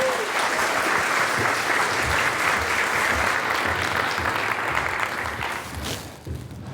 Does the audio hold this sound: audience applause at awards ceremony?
yes